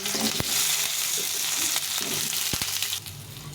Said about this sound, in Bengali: এই তেলে এখন পটলগুলো একটু ভেজে নেব